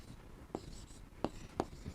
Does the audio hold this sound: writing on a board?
yes